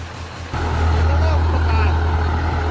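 A truck engine with an upgraded turbo and injectors idles loudly and rough, then jumps to a heavier, louder rumble about halfway through and holds there. People talk over it.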